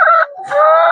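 Loud, close squawking from a hen during egg collection in a coop: two harsh, nasal clucks separated by a short gap, with no talking.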